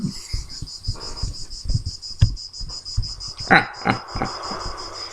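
Crickets chirp in a fast, steady pulsing trill throughout, with scattered low thumps and rustles nearby.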